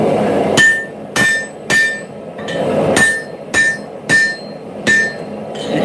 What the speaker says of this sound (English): It is a farrier's anvil.